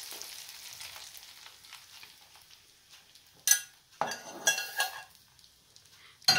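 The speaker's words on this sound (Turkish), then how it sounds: "Kaşığımızla biraz karıştırıp soğumasını sağlayalım" A spoon stirs hot kısır, a bulgur salad mixed with fluffy cooked eggs, in a bowl. Several sharp clinks and scrapes come in uneven bursts over a quiet, faintly hissing background.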